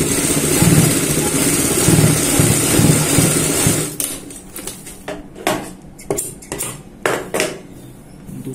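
A sewing machine runs steadily for about four seconds, stitching fabric along the neck piping of a garment, then stops and gives way to a few scattered clicks and handling taps.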